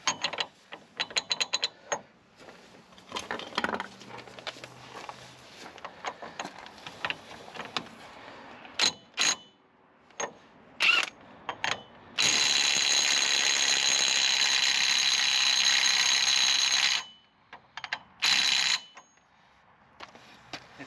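Ratchet wrench tightening a loose sway bar link on a 2005 GMC Envoy front end, with rapid clicking bursts and a long steady stretch of ratcheting, close and loud, with no talk.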